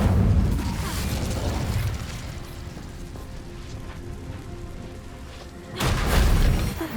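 A fire spell, Incendio, cast in the video game Hogwarts Legacy: a loud burst of whooshing flame at the start, a quieter crackling rumble through the middle, then a second strong flare near the end.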